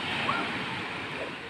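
Surf at Pangandaran's white-sand beach washes in as a steady, broad roar of breaking waves, loud and continuous with some wind buffeting the microphone.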